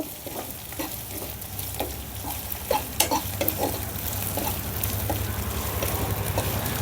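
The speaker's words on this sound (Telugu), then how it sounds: "అల్లం వెల్లుల్లి పేస్ట్ కూడా బాగా దోరగా వేగిందండి" Ginger garlic paste fries in about two tablespoons of oil, sizzling steadily with repeated scraping and stirring clicks from a spoon in the pan, close and continuous.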